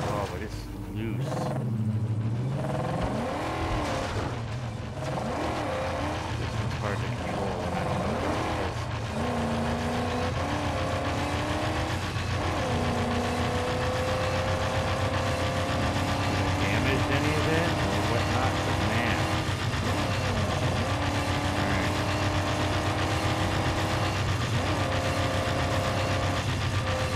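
A powerful spiked vehicle in the Mad Max video game runs with a loud, continuous engine roar that rises and falls as it revs and accelerates. Someone talks over it throughout.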